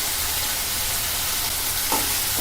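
Chopped tomatoes and chukkakura greens sizzling and frying in a pan while being stirred, a continuous close hiss with a faint scrape of the spoon near the end.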